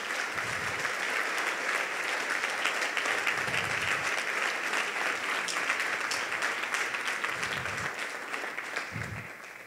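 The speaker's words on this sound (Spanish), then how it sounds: "Denle un aplauso a nuestro Rey" A church congregation claps together in sustained, dense applause that stays steady for about ten seconds before easing slightly at the end, with a little low murmur underneath.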